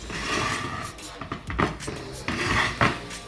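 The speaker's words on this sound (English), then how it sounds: "I'm gonna show you how I actually load the bags in the pressure cooker" Substrate bags being loaded into a pressure cooker for mushroom growing, with a series of close, irregular clunks, knocks and rustles of the bags against the metal pot.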